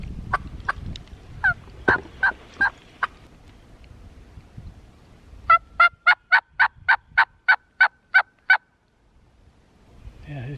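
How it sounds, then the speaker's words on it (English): Wild turkey gobbling in a spring woods during a turkey hunt, heard as two bursts of rapid rattling gobbles, the second a long evenly spaced run of loud strokes followed by quiet. "there's a turkey gobbling somewhere right here"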